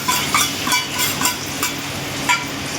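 Loud, close sizzling as ground masala paste hits a hot pan after cumin, with a broad hiss and a few spoon scrapes and taps during stirring.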